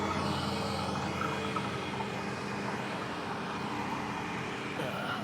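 Steady road traffic noise heard while out riding in cold weather, a continuous broadband rumble and whoosh of passing vehicles at moderate distance, with no clear individual passes standing out.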